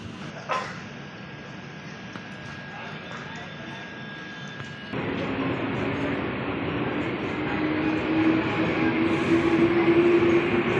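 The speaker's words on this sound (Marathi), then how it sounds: "ट्रेनमध्ये आणि पूर्ण AC ट्रेन आहे बघा" Steady rumble of an air-conditioned train running from Borivali to Delhi grows noticeably louder partway through and keeps running, with voices speaking over the noise.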